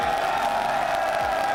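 Crowd at an esports tournament making noise: a loud, sustained wash of cheering and whooping from a large audience, steady and dense with no clear pauses.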